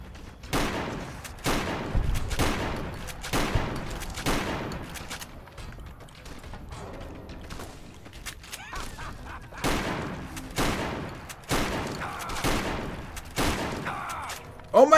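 Repeated bursts of gunfire from the video game Fallout New Vegas, with several loud rapid volleys of shots close together, a quieter stretch in the middle, then more volleys toward the end.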